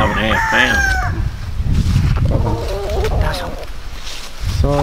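A big rooster on an Oklahoma farm crows loudly and close, with another crow following amid farmyard noise and clucking fowl.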